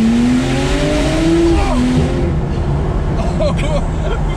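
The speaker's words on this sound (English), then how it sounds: "This has got a quicksilver exhaust, that's why it's loud." A loud Porsche 911 Turbo S fitted with a Quicksilver exhaust accelerates hard from a start, engine note climbing through quick gear changes before easing off, recorded close with brief voices reacting toward the end.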